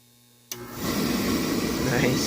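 Oil burner blower motor with a newly replaced capacitor kicks on after a faint hum, rising within a moment to a steady, loud whooshing rush of air.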